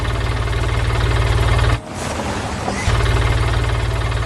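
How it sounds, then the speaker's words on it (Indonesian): A yellow forklift's engine runs steadily as it heads out of a barn in a farmyard, a loud, even mechanical drone that dips briefly around the middle before returning at full strength. "Lihat, sebuah forklift kuning mulai beraksi keluar dari lumbung."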